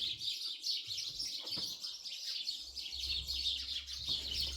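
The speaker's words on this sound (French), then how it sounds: "Putain, les oiseaux, ils ont décidé de chanter aujourd'hui." Small birds chirp and twitter steadily outdoors, with a continuous high, bright chorus running throughout, while a low hum rises near the end.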